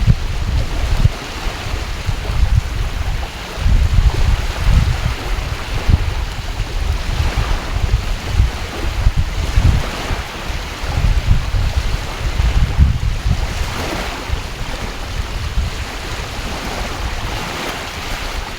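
Steady rush of sea waves and gusting wind buffeting the microphone, loud and continuous with surges of surf, no voices.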